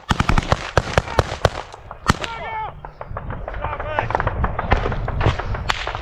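In trench combat, a rapid string of sharp gunshots is broken by a heavier blast, followed by dense overlapping cracks and thuds, with voices shouting throughout.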